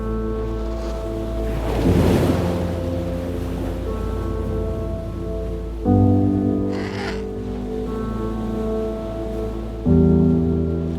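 Southern Ocean waves off Antarctica surge and wash in a few slow swells beneath sustained orchestral music.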